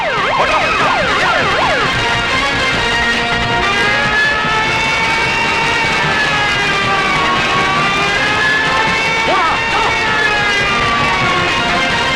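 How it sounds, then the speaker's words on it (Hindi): Loud wailing ambulance sirens sweep up and down continuously, several overlapping, with heavy background noise throughout. "फौरन एम्बुलेंस बुलाओ।"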